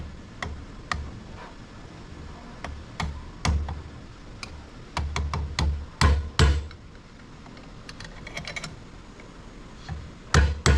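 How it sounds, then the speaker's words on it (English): Sharp metallic taps from a screwdriver knocking down the tabs on a Lotus passenger rear-view mirror body, irregular single hits and quick clusters, close and crisp over a quiet background. "we're going to take a screwdriver and just tap these tabs down"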